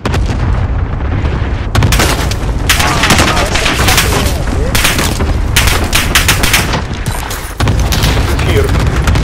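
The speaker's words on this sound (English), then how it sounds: "Enemy cluster strike incoming." Cluster strike explosions in Call of Duty: Modern Warfare pound loud and close in repeated heavy blasts, mixed with rattling gunfire and a dense roar that barely lets up for nine seconds, with a voice briefly heard.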